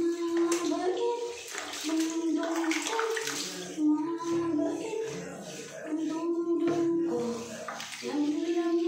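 Water runs steadily from a tap or shower while a cat gets a bath at home, the flow continuing beneath a person talking throughout.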